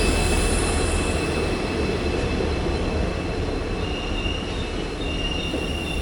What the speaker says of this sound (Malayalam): അങ്ങനെ പാസഞ്ചർ എത്തി.